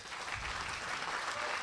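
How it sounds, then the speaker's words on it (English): Audience applause at a spoken word night, a soft, steady wash of clapping from a crowd that sounds somewhat distant and subdued, with no talk. "please give a rowdy round of applause to the staff of Bra Brothers."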